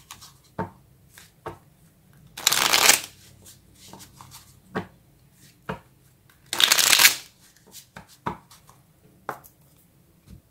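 Small tarot cards being shuffled, with two loud riffling bursts between scattered sharp taps and soft card handling, close and without talk.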